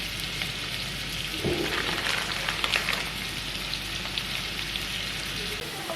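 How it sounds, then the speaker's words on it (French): Carrots and onions sautéing in a pot give a steady, soft sizzle with faint crackles throughout, close and continuous. "qu'on a fait revenir les carottes, les oignons"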